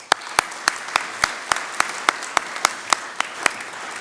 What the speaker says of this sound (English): It's nice to get applause before I've started speaking